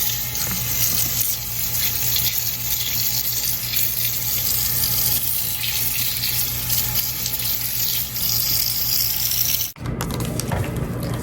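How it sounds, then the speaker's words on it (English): Tap running steadily into a sink while dill is rinsed under it, a loud continuous splashing rush, briefly interrupted near the end. "So this is some of my dill. I am just going to wash it off first."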